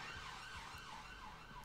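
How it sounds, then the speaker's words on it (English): Emergency vehicle sirens wail outside in a steady, rising and falling pattern, faint and distant, over a continuous low background hum. "Damn those sirens."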